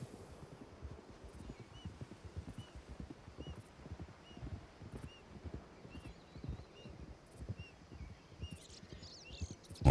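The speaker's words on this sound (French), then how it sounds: "On les entend passer à cheval sur la route à côté." Hooves of horses passing on a nearby road clop in a steady, dense rhythm, moderately close and continuous, with faint bird chirps scattered above and no talking.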